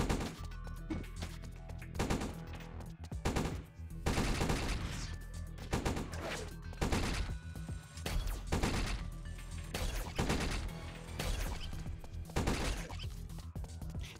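Gunfire in the video game Blade Assault: punchy shots and impact crashes arrive in repeated bursts over a steady low hum, loud and close throughout.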